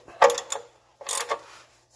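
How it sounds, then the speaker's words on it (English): Two short bursts of metallic clicking, like a ratchet, come close and clear as an oil drain plug is snugged back into a Ford F-150. A quiet pause separates the bursts. "we're going to put the oil plug back in place"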